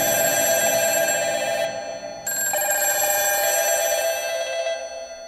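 Several telephone bells ring at once in a school's classrooms and staff room, a loud, continuous metallic trilling that briefly drops out and then resumes before fading toward the end, with no talking.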